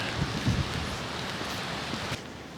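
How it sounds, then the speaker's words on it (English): Heavy rain falling outdoors along a misty coastal cycle track in Ardrossan, Scotland, a dense steady hiss with a few thuds near the start, continuous and close. "This rain is starting to get a wee bit heavier."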